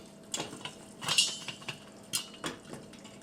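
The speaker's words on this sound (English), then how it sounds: "And then I just shake the pan like so." A metal pan of popcorn kernels shaken on a stovetop gives bursts of clinking, rattling knocks in uneven clusters, close and fairly quiet, with no talking.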